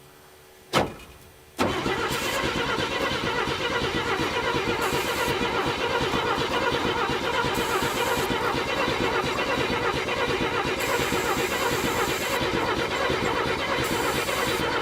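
A 1957 Chevrolet 210 engine, sitting unrun for about 50 years, cranks over with a brief clunk, then a steady, loud, unbroken starter grind that goes on without catching.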